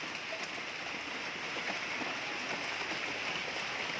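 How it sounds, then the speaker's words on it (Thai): Steady rain falls outdoors, a dense, even hiss of drops on surfaces that stays constant throughout, close and moderately loud with no voices. "ฝนตก หน่อยนะครับ"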